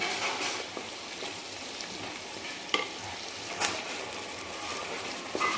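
Spiced masala fries in oil for a country-chicken curry, a soft, even sizzle close by, broken by a few sharp spatula taps and scrapes.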